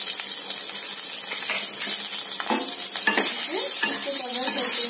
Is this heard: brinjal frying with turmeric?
yes